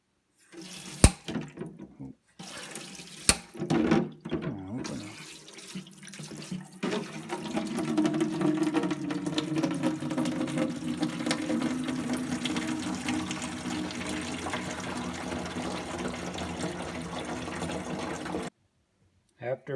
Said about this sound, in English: When I'm draining the tank, the holding tank that it has